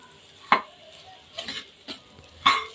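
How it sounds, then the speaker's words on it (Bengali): Puffed rice being stirred and mixed in a pot, four separate scraping clinks of a spoon against the pan over a few seconds, close and moderately loud, with quiet gaps between the strokes. "সবগুলো মুড়ি মিশিয়ে নিচ্ছি"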